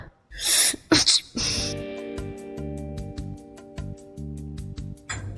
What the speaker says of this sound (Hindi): क्यों छींक रही हो तुम ऐसे?